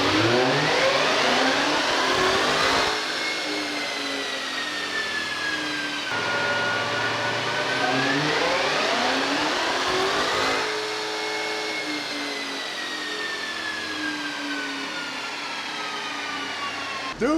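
A 2021 Dodge Charger Redeye's supercharged engine revs hard on a dyno, loud and close, with several long rising pulls that climb in pitch, drop back, and climb again.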